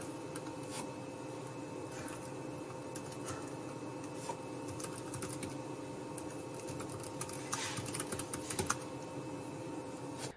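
Fingers type on the keyboard of a GPD Pocket Max ultrabook laptop, quick soft clicks in uneven runs over a steady background hum, close and fairly quiet, with no talking.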